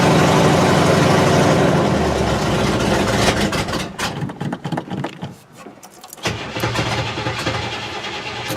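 A 1969 Buick Skylark that sat six months cranks and catches on a cold start, stumbling and sputtering unevenly before settling into a loud, rough, throaty idle up close.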